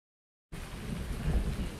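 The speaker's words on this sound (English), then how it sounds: "Yes, it's just thunder." Rumbling thunder with steady rain in the video game Farming Simulator 19 starts abruptly after half a second of silence, then swells into a low, continuous roll over a rain hiss.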